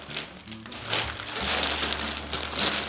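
Crinkly plastic rustles and crackles up close as a very large zipper bag is handled and pulled open, with no talking.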